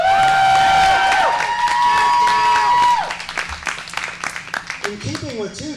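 An audience breaks into applause and cheering for a first-time performer at an open-stage show, a loud, dense wash of clapping that thins into scattered claps with voices over it.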